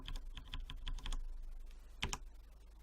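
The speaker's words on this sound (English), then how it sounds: "my mechanical keyboard's quite loud" Keys clack on a loud mechanical keyboard in a quick burst of typing, then a pause and two more sharp keystrokes, close to the microphone.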